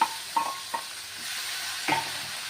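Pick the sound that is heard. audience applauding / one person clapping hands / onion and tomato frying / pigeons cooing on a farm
onion and tomato frying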